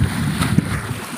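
Steady wind roars across open water in a low, continuous rumble during net fishing for blue crabs, with a brief gust swelling midway and no voices.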